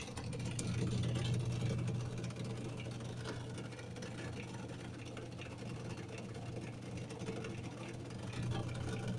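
An appliance pump, apparently in a washing machine that will not spin, runs with a continuous low rumbling drone and a rough, uneven texture, as if something is loose inside.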